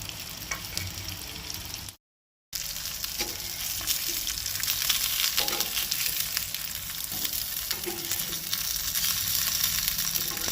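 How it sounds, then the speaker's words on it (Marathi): Grey mullet frying in oil in a pan, Goan style, makes a loud continuous close sizzle with scattered pops and a short break partway through. "अशें ते दोनूय सायडींनी बरें चरचरीत भाजून घेवपाक जाय।"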